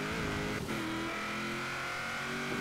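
Sustained car engine in Forza Horizon 4, a car of over 700 horsepower drifting through a left turn, loud and steady with a brief whoosh partway through.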